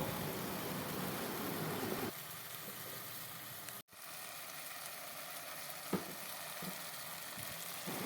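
Mash (urad) dal mixture frying in a pan, a steady close sizzle that runs throughout with a brief break midway and no talk over it.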